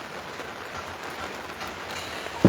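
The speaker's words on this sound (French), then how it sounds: "Vous attendez ce petit bruit là. C'est la pluie." Steady rain patters on a parasol outdoors, a dense even hiss of drops close by with no speech, ending in a brief louder tap.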